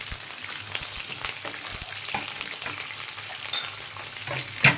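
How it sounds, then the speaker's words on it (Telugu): Soft, crackling sizzle of tempering seeds and onions frying in oil, punctuated by light clicks and spatters, fairly quiet and continuous. "మూడు స్పూన్ల ఆయిల్ వేడైనాక తాలింపు గింజలు వేసుకుందాం ఓకే ఆనియన్స్ వేసుకుందాం"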